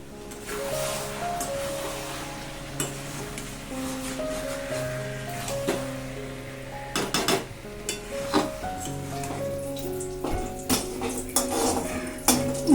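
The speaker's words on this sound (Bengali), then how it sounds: "যা আছে তাই দিয়েই একদম সুন্দর করে পুঁই শাকের তরকারিটা রান্না করে নিচ্ছি।" Malabar spinach curry cooking in a pan gives off a soft sizzle, with a utensil clinking and scraping as it stirs, all under steady tonal background music.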